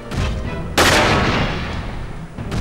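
Heavy mech weapon fire in the video game Front Mission 4: a loud sustained burst of gunfire that starts abruptly, holds a dense roaring rattle for nearly two seconds, then tails off under lighter game noise.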